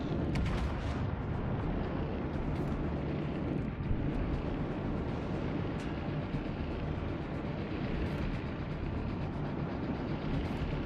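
Heavy naval gunfire from the battlecruiser Kronstadt in World of Warships: Legends, a continuous dense rumble of booming salvos and roaring blasts that stays loud throughout.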